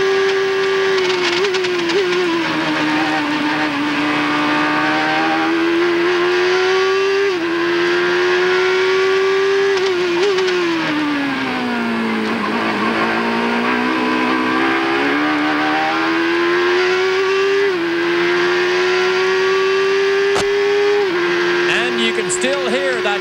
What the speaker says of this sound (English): Listen to his gear changes as he heads down into the first corner.